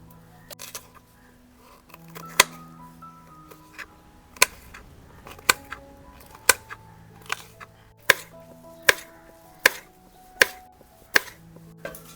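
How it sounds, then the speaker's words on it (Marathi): Onion, capsicum and tomato chopped with a knife on a board: a dozen or so crisp, separate knife strikes, sparse at first and then coming at a steadier pace, close and sharp over a faint tonal background. "आता आपण कांदा शिमला मिरची आणि टोमॅटो कापून घेऊ"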